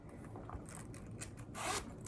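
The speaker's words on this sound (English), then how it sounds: "and it zips." Zipper on a removable Louis Vuitton pochette inside a Neonoe MM bag, a short close scratchy zip sliding near the end after faint handling rustle.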